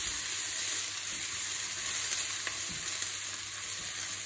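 Ginger and green chili sizzle in a frying pan, a dense, even hiss that holds steady and fairly close throughout, with no voices.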